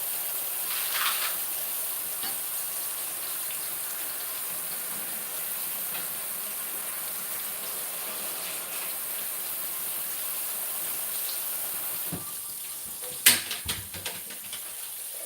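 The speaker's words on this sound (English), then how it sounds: "And just give them a good rinse." Tap water runs in a steady, soft gush over romaine lettuce leaves being rinsed, with a few brief clatters and splashes near the end.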